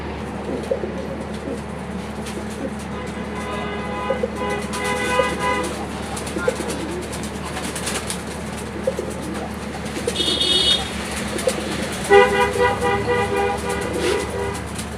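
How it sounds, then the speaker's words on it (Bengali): Caged pigeons coo and call repeatedly, mid-level rhythmic hooting phrases over a steady background hum, with brief louder bursts near the end. "ভাই এই নটটা কিন্তু অনেক ডাকে"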